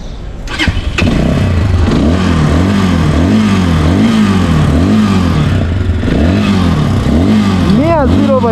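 A 2025 Zonsen Cyclone Carrera 200 motorcycle engine starts and settles into a smooth, steady idle close by, with a few rising revs near the end.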